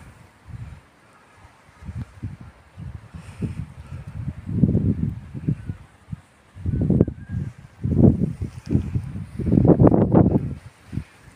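Strong gusts batter the microphone on a high, exposed summit near a cliff edge in low, booming rumbles that swell and fade irregularly, growing heavier toward the end, with no talking.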